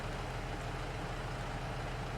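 A tractor engine idling in the Farming Simulator 22 video game, a steady low rumbling drone with an even, unchanging pulse throughout.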